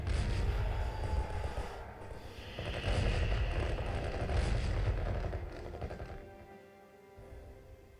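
Artillery fire in a war strategy video game. Dense, continuous rumbling booms and crackling blasts pile up loudly, easing off toward the end.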